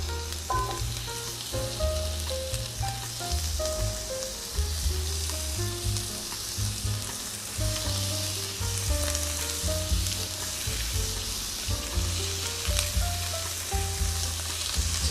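Beef sizzles and fries in oil in a Koizumi grill pot over medium heat, a loud, dense crackling hiss with stirring scrapes and a low rumble running throughout.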